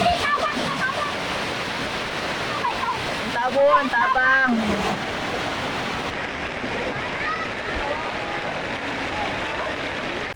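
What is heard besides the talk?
strong rushing flood water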